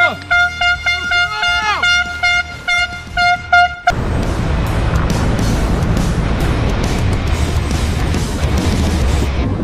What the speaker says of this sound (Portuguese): Vamos pegar a corneta. Vai, pega a cornetinha.